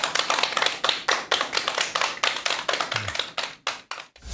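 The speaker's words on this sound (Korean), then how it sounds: "큰 박수 부탁드립니다." An audience at a lecture hall gives a round of applause, heard as sparse, fairly distinct claps at close range with a slightly uneven rhythm that fades toward the end.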